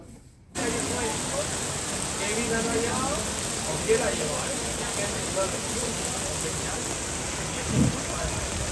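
A heavy tropical downpour in the Dominican Republic: a dense, steady roar of rain that starts abruptly and continues unbroken, with a few brief louder knocks and a low thump near the end.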